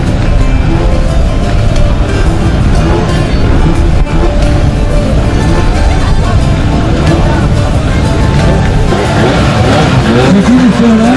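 A Ford Escort WRC rally car drives off at a rally event, its engine loud and close as it revs and rises in pitch near the end, with a crowd murmur and talk underneath.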